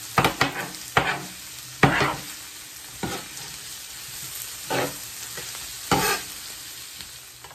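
Cut meat and onions being stirred and scraped on a hot griddle for a Philly cheesesteak, with repeated sharp metal spatula scrapes and clacks in an irregular rhythm over a steady close sizzle.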